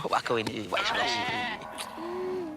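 A goat bleats in a couple of wavering, nasal cries, mixed in with close, overlapping speech.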